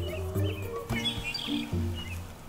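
A red-winged bird chirps in a city park near a lake, a few short bright calls and tweets in quick succession, fairly close, with no talking over them.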